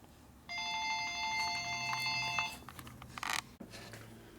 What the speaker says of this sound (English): You made the phone ring.